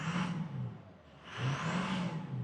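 A Ford Excursion with a 6.0 diesel engine revving, two rising and falling surges of engine roar with a dip between them, heard from nearby with no talking.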